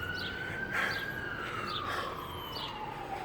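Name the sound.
ambulance siren passing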